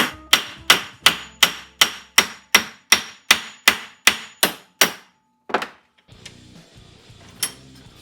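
Hammer blows angled across car body sheet metal on a 1966 Belvedere under repair, about fourteen sharp, evenly spaced metallic strikes close up, then a pause and a few scattered knocks and handling noises.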